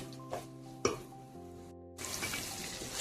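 Tomatoes fry in a pan for Madurai-style chicken biryani, a soft sizzle with a couple of utensil knocks, briefly quieter before a louder, steady hiss of frying resumes near the end.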